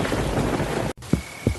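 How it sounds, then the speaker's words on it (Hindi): Heavy stormy-night downpour as a sound effect: a dense, steady hiss of rain, a brief dropout, then two deep thunder thumps rolling over the continuing rain. "आसमान में बिजली कड़कती रही, बारिश मूसलाधार बरसती रही।"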